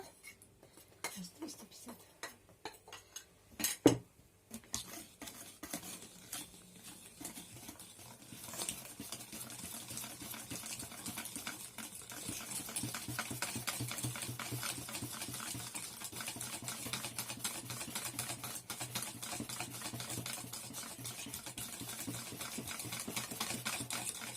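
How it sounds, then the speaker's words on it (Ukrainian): Steady rapid scraping and tapping of a utensil stirring wafer-roll batter in a bowl, continuous and close, with a sharp knock early on. "Розмішуємо ретельно, щоб е, не було грудочок."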